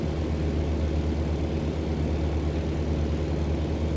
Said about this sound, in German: Da vorne fliegt ein Flugzeug.